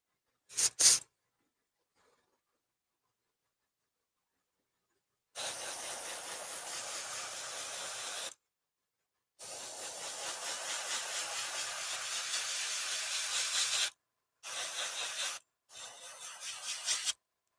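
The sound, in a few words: spray paint can hissing while painting silver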